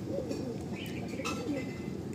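A Madrasi pigeon coos softly nearby, a low throaty murmur that rises and falls over a couple of seconds against light background noise.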